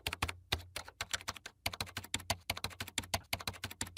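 Computer keyboard typing of bank account details, rapid close key clicks in an uneven, continuous rhythm throughout.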